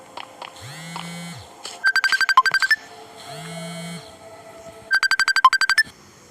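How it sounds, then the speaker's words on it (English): Phone ringtone inside a video game, two rapid trilling ring bursts separated by quieter electronic game sounds, loud and close with no talking. "I was getting a phone call from my mom"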